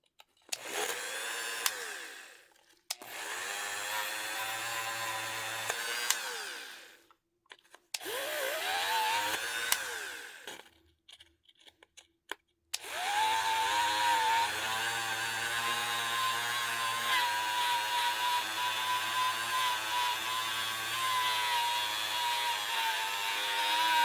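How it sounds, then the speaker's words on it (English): A small rotary tool with a sanding bit whines in several bursts, starting and stopping, then runs steadily at high speed while sanding a TX-22 pistol part. "This bit also doesn't sand as well as the actual sanding bit."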